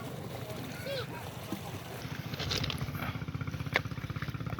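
Fishing boat engines start up as the boats head out to sea for squid, settling into a rhythmic putter that grows louder and steadier under distant voices and water noise.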